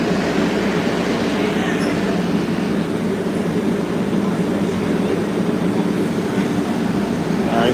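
A Green Line transit train rumbles in a steady, continuous roar, heard from on board or close by, with faint voices underneath.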